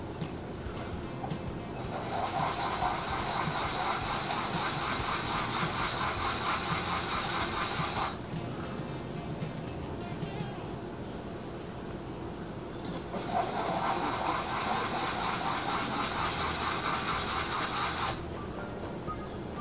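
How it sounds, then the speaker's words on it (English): Each end of a sapelle wooden sketch pencil component sanded against a sheet of sandpaper: two sustained raspy scrubbing passes of about six seconds each, separated by a short pause, steady and close with no talk. "I'll take and sand each end against a piece of sandpaper."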